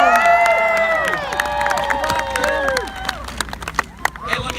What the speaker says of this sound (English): Give all of them a big round of applause,